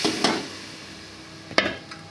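Lentils dropped into a pot of fried onions set off a brief hiss and sizzle, with a couple of sharp stirring scrapes and knocks against the pot close by.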